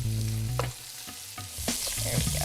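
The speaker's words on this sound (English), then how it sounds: "Now the chicken's gonna take about 4 minutes per side to cook completely through." Chicken cooks in melted butter in a pan, a close sizzle that is interrupted by a few stirring or shifting knocks and scrapes, dipping briefly before the frying hiss swells again, with no talking.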